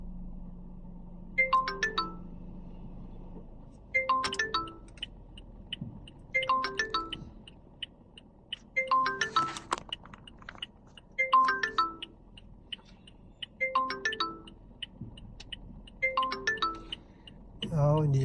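A phone ringtone repeats during an outgoing call, seven evenly spaced chiming bursts about two seconds apart, clear and steady against a quiet background with no talk.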